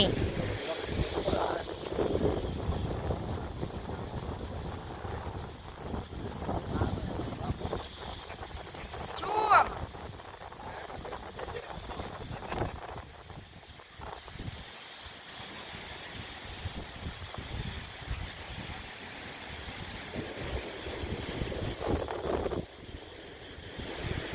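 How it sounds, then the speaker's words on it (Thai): Strong wind gusts at a seaside village, with surf along the shore, rushing steadily and loud across the whole stretch, with a louder gust partway through. "แล้วลมมันก็แรง อากาศก็หนาว"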